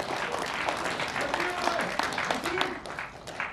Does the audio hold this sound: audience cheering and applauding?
yes